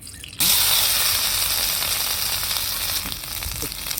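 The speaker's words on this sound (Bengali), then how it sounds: "এটাকে এই হলুদ লবণ দিয়ে ভেজে নিব।" Loud, steady sizzle of small potatoes with turmeric and salt frying in hot oil in a wok, starting abruptly and continuing without pause, with faint stirring clicks.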